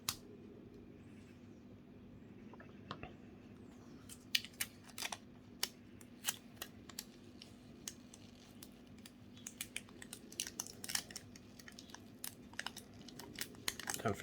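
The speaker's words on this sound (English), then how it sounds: "you're not pulling the resin out whilst you're peeling the tape off" Tape peeled in short bursts from a cured resin piece set in an open metal bezel, sharp crackly tearing snaps scattered at close range over a steady background hum, growing more frequent toward the end.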